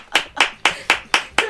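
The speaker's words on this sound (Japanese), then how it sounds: "皆さん拍手。" An audience on a Japanese year-end impressions contest show claps in a steady, even rhythm, six crisp hand claps about a quarter second apart, close and fairly loud with no voices.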